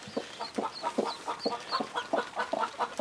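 Hens clucking in a coop with a brooding pair and new chicks, a steady run of rhythmic low clucks repeating about twice a second, close and distinct.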